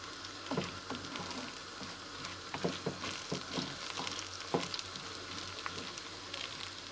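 Rice and peeled almonds sauté together in a pan, giving a quiet steady sizzle broken by scattered soft clicks and scrapes as they are stirred.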